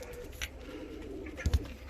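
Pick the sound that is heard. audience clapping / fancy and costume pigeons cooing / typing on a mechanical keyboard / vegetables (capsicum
fancy and costume pigeons cooing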